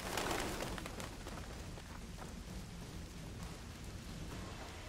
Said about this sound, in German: es regnet wie Sau